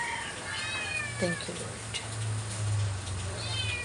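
A cat meows several times nearby, drawn-out plaintive cries over a low steady hum, while a person speaks briefly in between.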